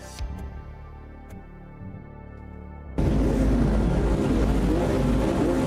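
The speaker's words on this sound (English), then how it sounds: "I need to hear my engine at the start here" A GT3 race car engine in the sim racing game AMS2 sits at a quiet idle, then bursts into a loud, sustained roar at the race start.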